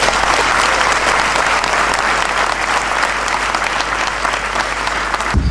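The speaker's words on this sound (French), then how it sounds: "je vous demande d'applaudir très fort" Loud, close applause at a school inauguration ceremony for a new college building, a thick sustained clatter of many hands that cuts off abruptly near the end.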